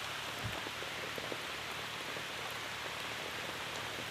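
Steady, dense rain falls outdoors in Sambalpur, Odisha, where people keep working through the downpour; the even hiss continues throughout with scattered drop impacts and no talk.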